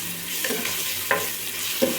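Ginger garlic paste frying in a pan for mushroom biryani, a soft continuous sizzle with three light stirring scrapes spaced about half a second apart.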